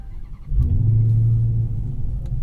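A 2022 Dodge Charger Hellcat Jailbreak starts up close by, a deep rumbling catch that swells into a steady low idle.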